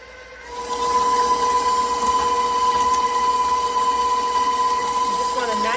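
An electric mixer whirs steadily as it blends cooked butternut squash with butter and brown sugar, starting quieter, then running loud and continuous at a constant motor pitch.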